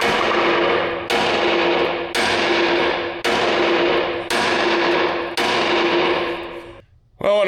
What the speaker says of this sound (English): let me go grab a B&O hammer and a sledgehammer, and hopefully we can get this sucker moving